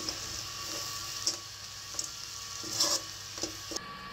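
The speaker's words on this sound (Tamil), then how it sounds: "நல்லா கிளறி விட்டுட்டு சிக்கனையும் முட்டையும் சேர்த்து மீண்டும் நல்லா கிளறி விட்டுக்கலாம்." Stirring chicken and egg into vegetables in a frying pan for chicken fried rice, a constant sizzle broken by several soft scraping knocks of the spatula, close up.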